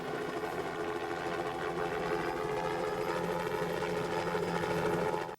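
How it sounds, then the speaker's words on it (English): A helicopter on a James Bond film set runs with its rotors going inside a hangar, a loud, close, steady mechanical whir and drone that holds evenly for several seconds before abruptly stopping. "We actually put Roger Moore inside this helicopter with the rotors going"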